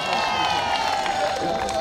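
Rally crowd in Limuru cheering and applauding, a dense, steady roar of clapping and shouting that fills the whole stretch at close range.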